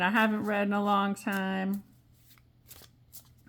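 Tarot cards being shuffled by hand during a card reading; someone talks over the first half, then soft, papery riffling and scattered light taps continue quietly on their own.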